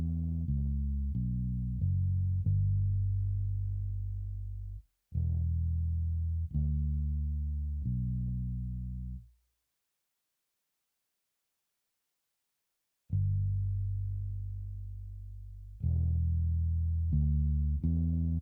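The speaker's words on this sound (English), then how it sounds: "It's a Scarby Rickenbacker palm muted preset," Palm-muted Rickenbacker bass preset played in Kontakt: deep, short plucked bass notes in phrased runs, a pause of several seconds in the middle, then more notes, loud and upfront with no voices.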